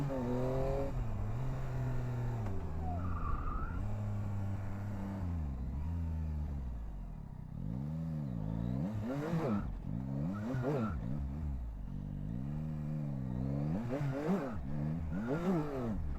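A Tracer GT motorcycle engine in the video game Gravity Game revs and whines through shifting pitches, loud and continuous, with a voice talking over it at times.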